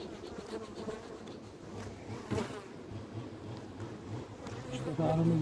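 A thick, constant drone of swarming honeybees on a hive frame fills the air nearby during a winter hive inspection, with a brief voice rising near the end.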